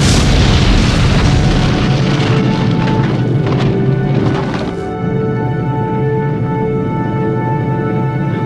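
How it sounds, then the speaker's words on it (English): Supervolcano eruption at Toba on Sumatra, rendered as a continuous heavy roaring boom that rumbles loudly for several seconds, then settles into a sustained low drone. "The supervolcano kept erupting for a whole week."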